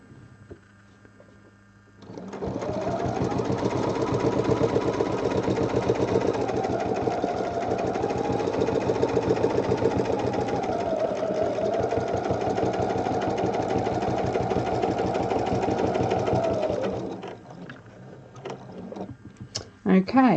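Sewing machine stitching a quilt block, running steadily for about fifteen seconds with a fast mechanical rhythm, then stopping; brief handling noises follow.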